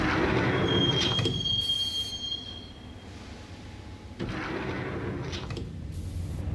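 A subway train in the video game Max Payne rolls along the rails with a steady rumble, a high squeal of wheels early on and a louder surge of clatter near the end, with no voices.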